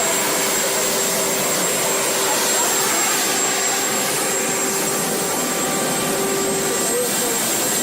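The Marine One presidential helicopter sits with its engines running, giving a steady, loud turbine whine and broadband roar that holds unchanged for several seconds, with no talk over it.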